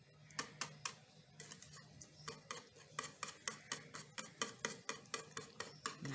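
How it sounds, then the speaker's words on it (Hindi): Baingan raita made with eggplant is stirred with a spoon in a bowl, giving a rapid, regular series of close clinks and scrapes, quiet and with no talk. "अब मैं इसको मिक्स कर लेती हूँ"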